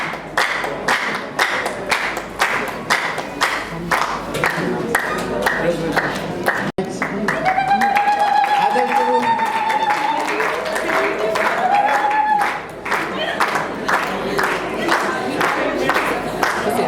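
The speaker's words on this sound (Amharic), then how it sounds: "አጨብጭቡ፣ አጨብጭቡላቸው።" Guests at an apostolic wedding clap steadily for the couple, dense and rhythmic, with a crowd cheering and a voice calling out over it, then a long ululating trill rising above the clapping before the applause carries on.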